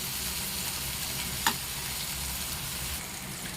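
Onion, tomato and chili masala cooking in a pan, an even soft sizzle with a single sharp stir or utensil clink near the middle.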